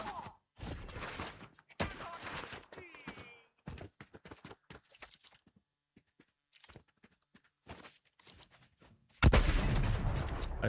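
Scattered gunshots and footstep-like clatter in the Fortnite battle royale game come in sharp bursts separated by pauses, ending in a louder, sustained stretch of noise; moderate level, fairly close.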